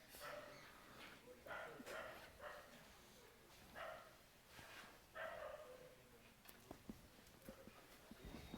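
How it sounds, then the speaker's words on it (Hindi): A dog barks outdoors at a distance, several separate barks spaced a second or so apart, faint and muffled against a low room background. "अच्छा, कुत्ता बोल रहा था बाहर में।"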